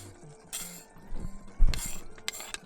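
Beef and onions being stirred in a pan on a stove inside a hot tent during winter camping, with scattered metal scrapes and clinks of a utensil against the pan and a couple of louder knocks.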